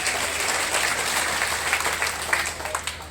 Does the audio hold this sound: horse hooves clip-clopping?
no